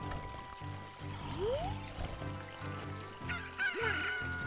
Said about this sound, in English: Because that's the only thing that can wake a human being up, is a cockerel.